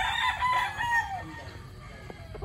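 A single rooster crows at a gamefowl farm, one clear drawn-out call close by lasting about a second, followed by faint clucks and farm noise.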